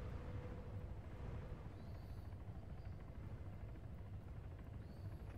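Helicopter in the video game Arma 3, a steady low rotor and engine rumble that fills the whole stretch at a fairly faint, even level, with faint high whines drifting over it.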